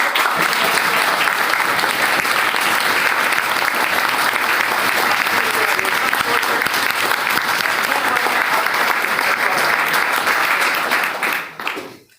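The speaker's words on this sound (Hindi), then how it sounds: "एक जोरदार तालियों के साथ।" Loud, sustained applause from a large crowd welcoming a speaker fills the room for over ten seconds before quickly tapering off.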